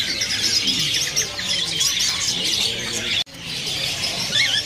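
Caged birds at a busy Indonesian bird market, including a plaintive cuckoo, call continuously in overlapping high chirps and whistles, close and fairly loud, with a brief dropout near the end.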